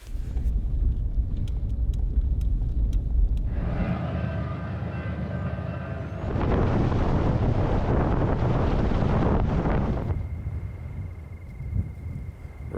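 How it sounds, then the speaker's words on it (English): Strong wind howls and buffets around a parked truck in open Wyoming elk country, a loud, continuous roar of gusts with no talking. "the wind is howling so bad"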